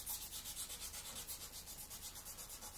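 Dried filler is sanded down by hand in fast, even back-and-forth strokes, a close, rhythmic, gritty rasp that repeats steadily with no talk.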